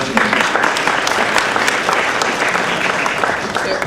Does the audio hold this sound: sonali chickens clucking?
no